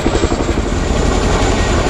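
Chinook helicopter hovering with an external load at the ILA Berlin air show, its twin rotors producing a loud, continuous throbbing thump and roar that stays steady and close, with no speech.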